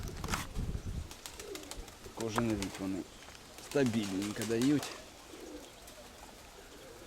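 A pigeon coos softly in the background while someone talks nearby, with other faint bird sounds around, at a pigeon loft.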